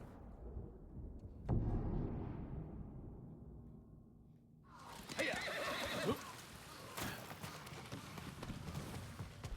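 Horses in the samurai video game Ghost of Tsushima whinny and clatter their hooves, a sharp neigh near the start followed by a denser burst of galloping and rustling action in the second half.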